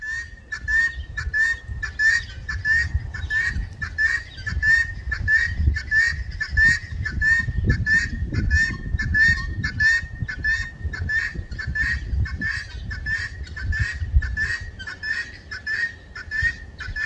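Guinea fowl call loudly and steadily, a rapid repeated honking cackle that carries on without pause, close by, over low rumbling outdoor background and with no speech.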